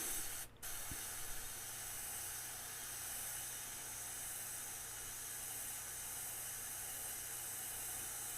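An airbrush sprays paint in a long, steady, soft hiss that carries on alone, with a brief break and a small click near the start.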